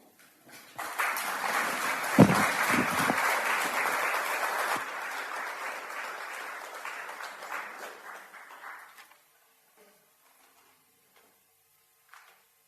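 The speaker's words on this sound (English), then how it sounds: "another round of applause to all the readers that have read so far" Sustained audience applause for the readers at a literary event in a Baptist church, loud and dense for several seconds, then thinning and fading out into near silence, with one faint sound at the end.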